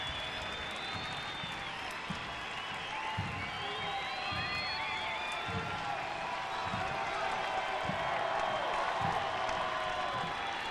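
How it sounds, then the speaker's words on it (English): A crowd at Toyota Field gives a standing ovation during a San Antonio FC soccer match as a player leaves the field, with sustained applause and cheering that swells gradually over about ten seconds. "Rafa Castillo gets a loud standing ovation from the crowd here at Toyota Field tonight"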